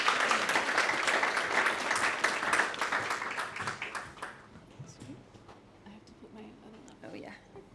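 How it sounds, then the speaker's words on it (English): An audience at a healthcare design talk claps and applauds loudly, the clapping thinning out and fading after a few seconds, with voices murmuring beneath. "give her a round of applause"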